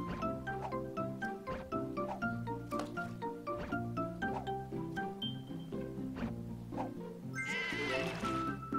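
Sheep bleat in a video game, short calls repeating over steady game music, with one louder, wavering bleat near the end.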